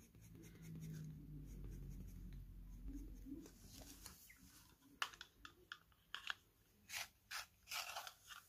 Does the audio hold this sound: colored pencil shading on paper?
yes